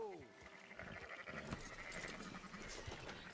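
Sheep bleating in a video game, a wavering bleat at the start followed by faint bleats under background voices and game noise.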